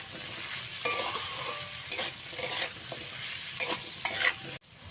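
Vegetables frying in a pan with salt and turmeric for a sago pulao, a constant near sizzle broken by several rhythmic spatula scrapes and stirs before a sudden cut.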